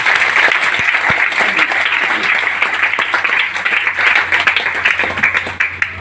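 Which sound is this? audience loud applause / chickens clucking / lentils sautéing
audience loud applause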